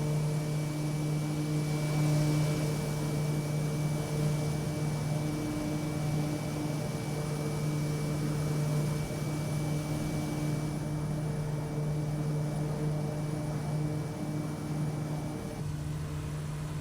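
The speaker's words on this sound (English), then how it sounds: "I always have a tough time taking pictures during takeoff." Simulated airplane engine drones steadily through a takeoff in a flight simulator game, a constant mid-level hum with a faint high whine, holding even loudness throughout with no talking.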